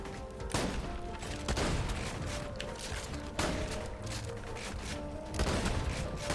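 Gunfire in the video game Tiny Tina's Wonderlands, with several sharp bursts of shots spaced a second or two apart over a dense game soundscape, fairly faint overall.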